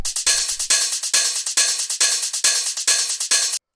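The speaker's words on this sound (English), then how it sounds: "Then from there we have the hi-hats." Hi-hats from an industrial hard techno beat: a steady run of bright, crisp metallic hits in a quick repeating pattern with accented open strokes, loud and close, alone, then cutting off abruptly.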